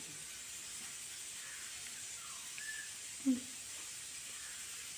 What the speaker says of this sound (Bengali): রান্না বসিয়ে দিয়েছি, আলু আর কচু সেদ্ধ হচ্ছে